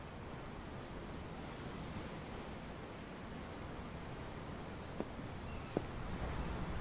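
Ocean waves wash steadily in the video game Tales of Arise, a continuous broad surf hiss with a couple of faint ticks near the end.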